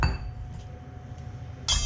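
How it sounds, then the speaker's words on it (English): Granny Smith apples and duck go into a bowl in a kitchen, giving a soft thud followed by a bright clink against the bowl, close and brief. "we're going to put those apples into the bowl here"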